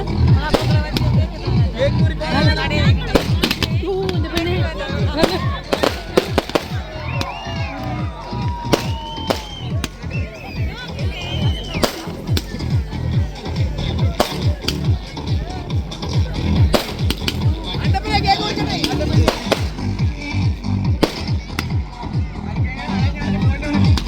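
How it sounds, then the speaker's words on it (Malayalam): Long-lasting firecrackers crackle at a New Year celebration in Lakshadweep, with dense, rapid pops and bangs running throughout, mixed with crowd cheering and people talking nearby. "അപ്പോൾ അതേ കുറേ സമയം നീണ്ടു നിൽക്കുന്ന പടക്കം"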